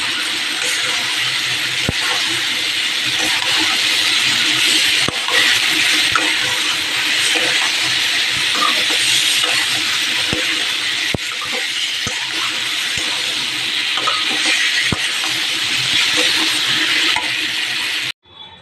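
Potato and pointed gourd sizzle as they sauté in a pan with Kashmiri red chili powder, sugar and spices, making a continuous loud frying hiss with scattered clicks and stirring scrapes that runs close and steady until a sudden stop.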